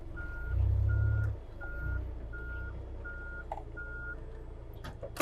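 A forklift's reversing alarm sounds in steady, evenly spaced beeps, six in a row, over a low engine rumble as the truck is driven and steered.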